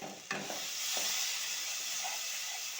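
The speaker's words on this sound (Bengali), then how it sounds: "তো দেখতে পাচ্ছ মশলাটা খুব ভালো করে কষানো হয়ে গেছে।" Masala spice paste sizzles in a pan while being cooked down for a loitta fish curry, a steady close hiss of frying with a few light stirring knocks and no talking.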